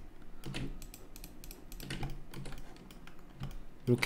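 Keys on a computer keyboard are pressed during 3ds Max character modelling work, a series of close, soft clicks in irregular bursts over quiet room tone.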